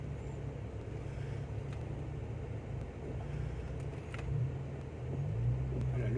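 A Jeep Cherokee Limited with the 4.0 engine drives in two-wheel drive along a slippery forest track in the Thai jungle, giving a steady low engine rumble with slight revving toward the end, heard from inside the vehicle.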